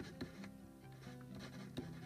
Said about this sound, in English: you can write the date and what you're doing